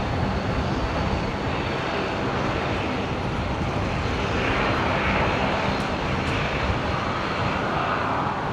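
Steady, broad engine roar from an Alliance Fokker 70 jet taxiing out to runway 01 left at Brisbane airport, continuous and fairly loud, with no talking.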